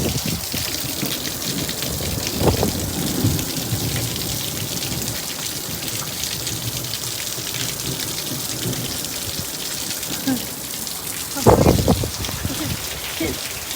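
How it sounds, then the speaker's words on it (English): Steady heavy rain pours down in Maryland, a dense continuous hiss close by, with two brief low rumbling bursts that may be thunder rising out of it. "I just want my people to see how beautiful the rain is"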